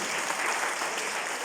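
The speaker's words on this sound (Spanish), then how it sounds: "Denle una ofrenda de palmas al Señor" A church congregation breaks into warm applause as a clapping offering to the Lord, a dense crowd of hands clapping steadily and loudly throughout.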